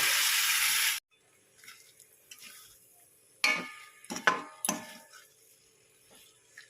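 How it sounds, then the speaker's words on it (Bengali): Sago being stirred into khichuri in a pan: after a burst of loud hiss, a few distinct spoon scrapes and knocks against the pan ring out, separated by quiet gaps. "সাবুটা সাবুটা দিয়ে ভালো করে নাড়িয়ে চালিয়ে নেব"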